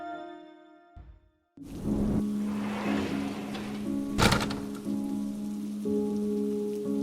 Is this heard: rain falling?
yes